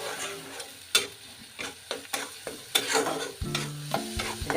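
Stir-frying kofta curry masala with chili in a pan: a steady sizzle under repeated sharp scrapes and knocks of a spoon against the pan, close and fairly loud, with no talking.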